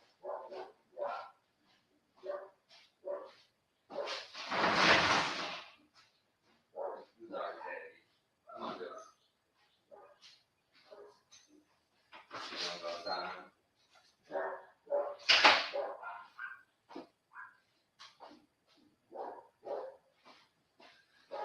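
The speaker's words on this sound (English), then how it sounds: "Dogs are losing it." Several dogs bark in loud bursts at home, a few sharp barks standing out among stretches of a person talking nearby.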